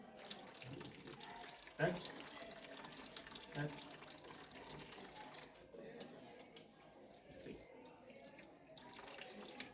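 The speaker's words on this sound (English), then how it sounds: "you can remove the gloves and wash your hands" Water runs from a tap into a sink as hands are washed after removing gloves, a steady close splash with brief bumps and a quiet voice speaking now and then.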